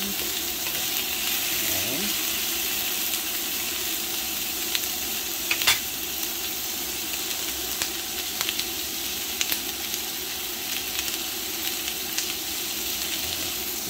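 Red tilapia and onion sizzle and crackle steadily in a hot pan, with faint clinks of a utensil now and then, close by and without talking.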